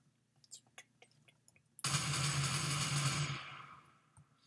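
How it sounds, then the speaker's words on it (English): A loud burst of rapid gunfire in the Minecraft Minestrike shooter mode, lasting about a second and a half before fading, preceded by scattered soft clicks and light taps. "Hear gunshots. I hear them."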